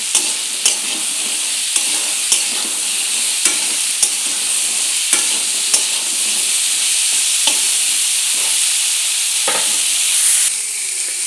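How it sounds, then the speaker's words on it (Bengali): Pointed gourd (potol) slices fry in a hot oiled pan with a steady, loud sizzle, broken every second or so by sharp scrapes and clacks of a spatula stirring them, and no talking. "এখন পটলগুলোকে একটু লাল করে ভাজি করে নেব।"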